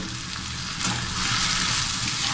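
Rice frying in a pan, a steady close sizzle with a faint scraping stir, growing slightly louder partway through and running without pause; no one speaks.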